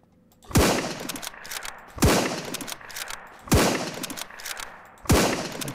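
Rifle fire in the zombie survival game Intruders (SurrounDead): four loud, evenly spaced single shots, each a sharp crack followed by a decaying echo tail, with no talk.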